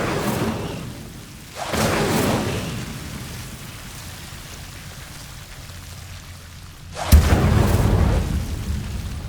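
Incendio fire spells cast in Hogwarts Legacy, each a whooshing burst of flame with a low roar, three casts spaced a few seconds apart, loud and close.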